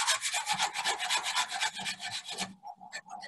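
Rapid rhythmic sanding inside the shaft of a Concept2 oar, a close, rasping back-and-forth scrub that pauses briefly near the end before a few more strokes.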